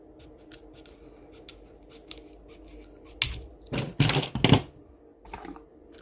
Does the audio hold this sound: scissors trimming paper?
yes